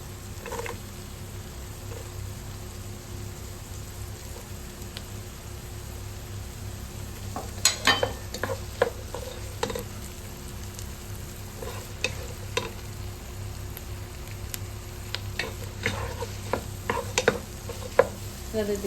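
Carrot and mixed vegetables frying in a pan for creamy pasta: a steady low sizzle runs throughout, with scattered clicks and scrapes of stirring that grow busier in the second half.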